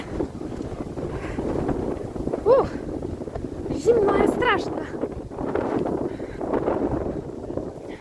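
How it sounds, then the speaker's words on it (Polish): Strong wind roars and buffets against the microphone throughout on a hike up Biokovo in Croatia, gusting louder at moments, while a person speaks briefly over it. "Wiatr zaczął wiać bardzo, bardzo mocno"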